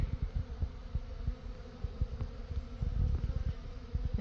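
Honey bees from a swarm caught in a swarm trap buzz steadily inside their hive, with a close, low hum and soft irregular bumps and crawling taps from the colony.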